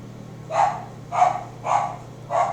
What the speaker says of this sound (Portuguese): Desculpe a cachorra no fundo.